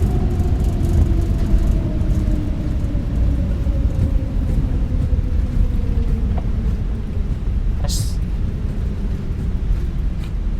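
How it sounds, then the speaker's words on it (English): Airbus airliner braking on the runway in Microsoft Flight Simulator, a steady loud low rumble with a slowly falling engine whine that winds down, plus a brief hiss near the end. "And now we're going to manually brake it"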